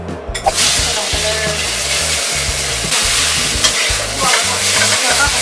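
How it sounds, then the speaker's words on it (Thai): Spaghetti noodles sizzle loudly in a hot buttered frying pan while a utensil stirs and scrapes through them in a steady, repeated rhythm. "ต่อไปเราก็จะนำเส้นลงกระทะนะคะ"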